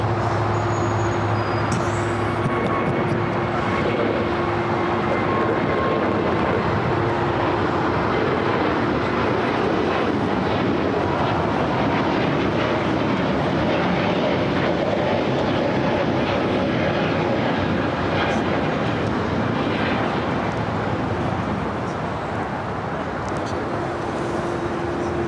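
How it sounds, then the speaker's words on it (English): A United Airbus A321neo airliner passes at LAX as a steady, loud broadband engine roar that holds throughout, with a low hum underneath and no talk. "United A321 Neo flight heading to Chicago here at flight 2615"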